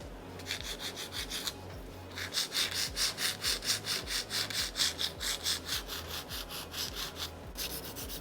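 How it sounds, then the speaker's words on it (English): A nail file strokes back and forth along the sides of the fingernails in quick, steady rhythmic passes. The rasping is close and clear, pauses briefly near the start, then carries on evenly with no talking. "I'm still filing the sides here to bring them in."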